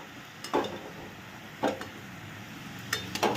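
Chopped cabbage being sautéed in a pan, quiet background hiss broken by three distinct stirring scrapes of a utensil against the pan, spaced about a second apart, close and fairly soft.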